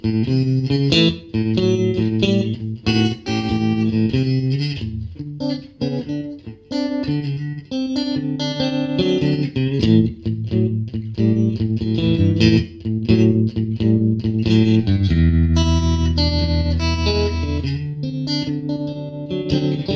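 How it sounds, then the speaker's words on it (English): Electric guitar with a distorted, effects-laden tone plays a blues rhythm part that mixes single-note riffs with strummed chords, steady and loud throughout, closing on a sustained low chord with no voice. "play cool sounding rhythm parts by mixing up riffs with different chords that sound something like this."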